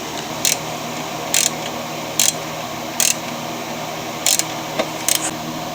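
Bolts are tightened to refit the gas tank on a Craftsman mower, with a ratchet giving short, sharp clicking bursts at an uneven pace, close by and otherwise quiet.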